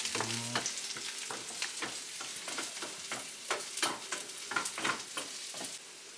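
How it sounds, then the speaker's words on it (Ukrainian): Steady crackling sizzle of onions frying in a pan, with repeated scraping strokes of a utensil stirring, close and fairly quiet. "цибулька смажиться, треба її трошки повмішати"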